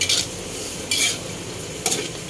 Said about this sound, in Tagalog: Medyo halo lang ng halo guys, para hindi siya dumikit sa kawali